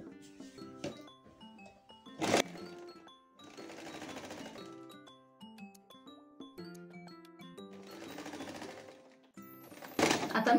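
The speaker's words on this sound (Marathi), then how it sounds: "आता आपण शिलाई मारून घेऊया।" A sewing machine stitches a lined katori blouse in two sustained whirring runs with thumps between them, under soft tonal background music.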